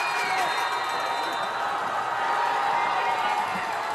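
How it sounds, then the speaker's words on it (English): Spectators at a Georgia high school football game between Alexander and East Paulding at the Boneyard cheer and shout in a dense, steady roar of excited voices. "An excited crowd for sure here at the Boneyard."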